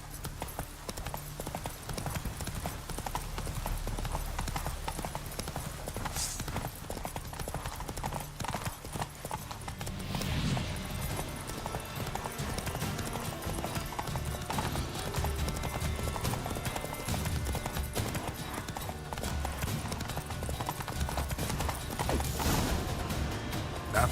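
Roach gallops hard in The Witcher 3, with loud, driving hoofbeats in a fast unbroken rhythm, a brief whinny or rider's shout rising partway through over a dense game soundtrack.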